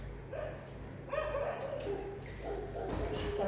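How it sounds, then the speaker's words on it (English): Neighborhood dogs bark outdoors at a distance, a scattering of short yips and barks coming in loose bursts over a steady low background hum. "Some of the other dogs in the neighborhood are outside."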